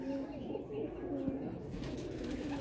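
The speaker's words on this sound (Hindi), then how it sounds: "गुजरात से हम आपको आज कबूतर दिखा रहे हैं" A golden pigeon coos in a few soft, low, repeated calls, fairly quiet against a background murmur.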